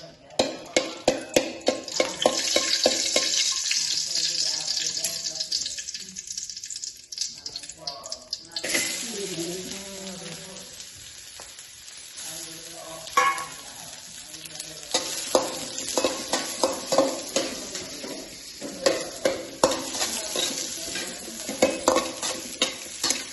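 Garlic sizzles in hot oil while being stirred, with bursts of spatula scraping and clatter over a steady frying hiss, a quieter stretch midway, and faint background voices.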